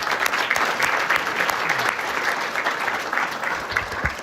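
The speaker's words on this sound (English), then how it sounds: "Let's give them one more round of applause." Steady, sustained applause from a chamber of commerce breakfast crowd, dense and even throughout with no break.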